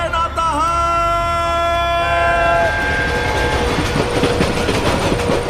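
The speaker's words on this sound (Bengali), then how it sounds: "সঙ্গে সঙ্গে চলন্ত ট্রেনের ফোঁস ফোঁস হড় হড় শব্দ" A moving train arrives at a station platform, its horn blaring in long sustained tones that give way to a loud, dense rumble and clatter of rolling wagons, close and continuous with no talk.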